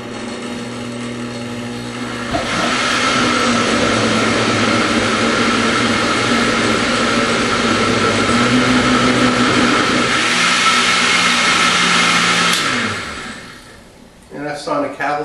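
An old eight-speed blender whirs loudly and steadily for about ten seconds, its pitch shifting slightly partway through before it winds down and cuts off.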